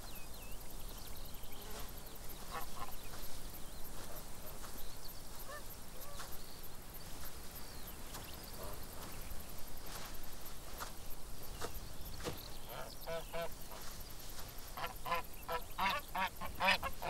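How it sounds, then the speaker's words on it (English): A goose honks repeatedly outdoors among cactus plants, with harsh, nasal calls coming in irregular bursts, thickest toward the end, over a steady background of rustling and footsteps. "a starving Jewish deserter from the Turkish army finds a fat goose"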